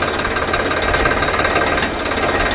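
A VST Shakti 9054 DI tractor with a Kirloskar engine runs under load, giving a steady, loud, close diesel drone with a rough knocking clatter throughout and no talk.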